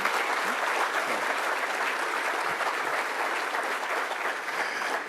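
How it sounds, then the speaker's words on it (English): Big crowd applause for award honorees at a law enforcement officer awards ceremony, dense and sustained clapping throughout with no voices on top. "Big round of applause."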